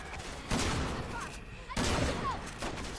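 Two heavy bursts of gunfire sound in the Resident Evil 6 video game, loud and booming, separated by a short lull, with faint game sounds continuing between them.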